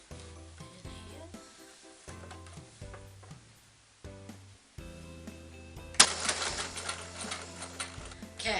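Sewing machine stitching tote bag handles, short bursts of rapid mechanical whirring separated by brief pauses, then a longer run with a louder rustle of fabric being moved.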